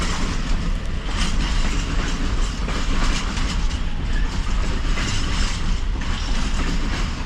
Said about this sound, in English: when the container train passed